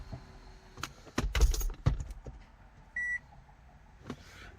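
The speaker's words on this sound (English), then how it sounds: "Let me start the vehicle." Inside a 2013 Toyota Camry Hybrid: keys jangle and clunk, followed by a short electronic beep as the car starts silently, with only faint cabin hum afterward.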